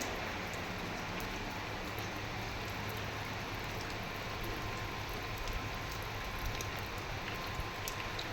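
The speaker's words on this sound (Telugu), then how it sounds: "మోటార్ వేసేసినాక ఇంకా వాన స్టార్ట్ అయింది" Steady rain hissing down continuously, a dense even patter with occasional louder drops, no voices.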